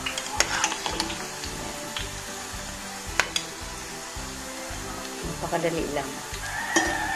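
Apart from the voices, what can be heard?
garlic and peanuts frying in a pan for adobong mani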